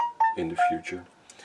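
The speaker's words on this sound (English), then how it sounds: "I'm sorry for my phone, but I'm expecting a call today" A mobile phone rings with short electronic tonal chimes, near and moderate in level, sounding under a person talking.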